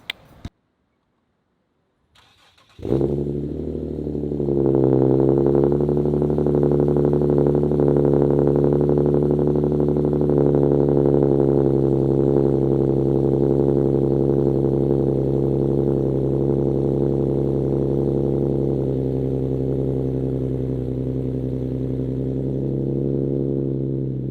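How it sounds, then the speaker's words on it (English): A car fitted with a Fast Intentions catback exhaust and test pipes cold-starts with a brief crank, then settles into a loud, steady, deep exhaust drone at idle that holds evenly to the end. "What better way to start an exhaust review than with a cold start?"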